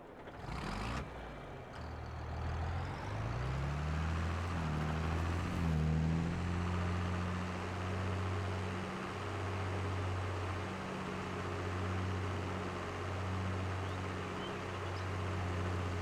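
John Deere 4650 front-wheel-assist tractor from Farming Simulator 22 with a steady diesel engine idle and rising revs from inside the cab, a low harmonic drone that steps up and down in pitch a few times, with no talking.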